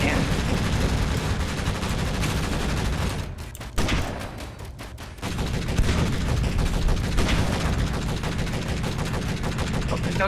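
Ship cannons in Space Engineers fire as a dense, loud barrage of overlapping blasts. The barrage drops out briefly midway, then resumes as a continuous rumbling volley.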